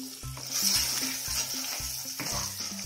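Marinated soya chaap being stirred into a yogurt gravy over a slow flame, with a steady soft sizzle and rhythmic scraping strokes repeating about every half second, close and alone.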